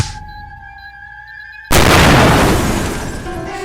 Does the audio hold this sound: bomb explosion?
yes